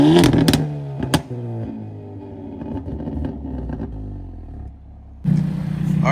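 Engine of a 2024 Hyundai Elantra N with a Borla ATAK exhaust in quiet mode, revved: a sharp blip, a falling rumble that settles into a steady idle drone, then a louder rise at the end, heard close with no talk.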